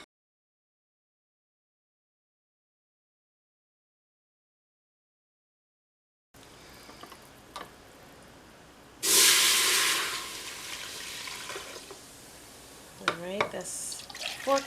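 After several seconds of silence, mineral water gushes loudly into a pot for a few seconds, then trickles off, with faint voices and clinks afterward.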